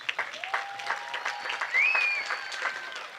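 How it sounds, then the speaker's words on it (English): An audience at a high school graduation ceremony applauds the families, a fairly faint, distant patter of clapping with a whistle or two rising above it. "How about a round of applause for your families?"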